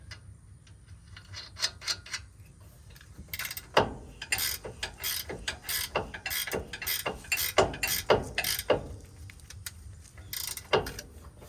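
A socket ratchet tightens a nut on the rear strut of a 2007–2017 Ford Expedition, with a close, crisp clicking in repeated short strokes that start sparse and speed into a steady rhythm.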